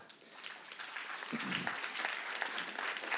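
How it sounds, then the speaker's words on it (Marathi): An audience at a live stage talk event claps in a dense, sustained round of applause that swells slightly and stays full and fairly close, with no voices over it. "आता जेवढ्या टाळ्या पडल्यात ना त्याच्या चौपट टाळ्या पुढच्या उत्तरानंतर मिळतील"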